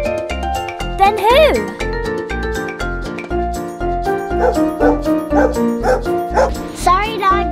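Playful dog barks pop up in the children's nursery rhyme Who Stole the Cookie from the Cookie Jar, with sung woofs riding over a steady, bouncy beat and backing music.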